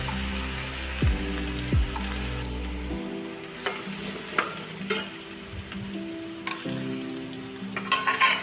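Onions sizzling in hot oil with ginger-garlic paste while cooking a creamy bottle gourd curry, a steady frying hiss with scattered clinks and scrapes of stirring; a low hum cuts off early.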